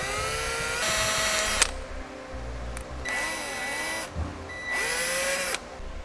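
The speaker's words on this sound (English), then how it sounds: "We'll drill a small hole in the middle of it." A power drill bores a small hole through a rubber grommet pulled from a vehicle during trailer wiring installation, whining in three close, loud bursts of a few seconds each, with pitch sweeping as the bit bites and frees.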